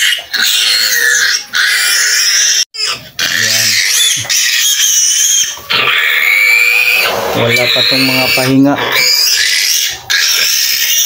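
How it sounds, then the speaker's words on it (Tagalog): Pigs on a farm, newly farrowed with a sow and piglets whose teeth have been clipped, squeal and grunt loudly and almost without pause, with some rough oinks and someone talking over the noise. "Ganyan talaga pag mag-alaga sa mga baboy, mga hayop, kailangan magsakripisyo."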